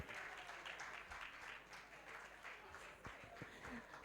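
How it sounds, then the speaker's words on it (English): Crowd applause during a gift presentation at a women's empowerment event, a steady wash of many hands clapping throughout, moderately distant and fairly quiet. "Ladies, let's clap as the DJs hand over something to."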